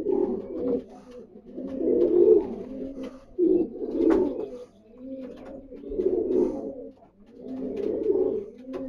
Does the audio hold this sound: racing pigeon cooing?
yes